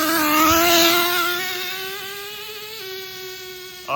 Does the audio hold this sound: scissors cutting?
no